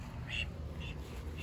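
Ducks in a barn give two or three short, nasal quacks at close range over a steady low background rumble.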